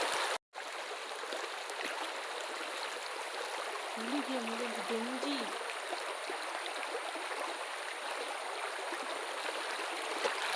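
A small stream runs with fairly high water, flowing in a steady, broadband rush that stays constant and close throughout, with a brief voice heard faintly under it.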